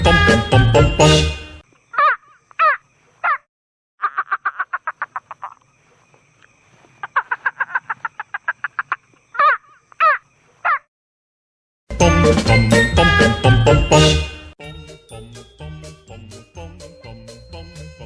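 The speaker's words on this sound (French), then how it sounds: "Le toucan toco, l'oiseau au grand bec coloré." Toco toucan calls: rapid, rattling croaks repeated in short bursts and series, fairly loud and clear, separated by brief silences.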